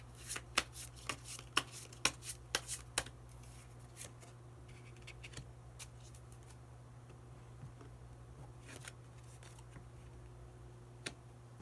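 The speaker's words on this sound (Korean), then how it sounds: "마지막으로 히든 카드 한 장 더 뽑아보도록 하겠습니다" Tarot cards being shuffled and drawn at a reading, giving a quick run of sharp crisp flicks and snaps over the first three seconds, then softer scattered card taps and slides close by, with no talking.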